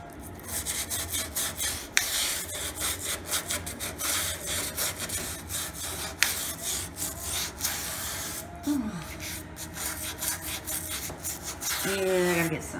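A knife scrapes soap scum off a dirty shower surface in steady, gritty rasping strokes, close and continuous, with a few sharper knocks and squeaks near the end.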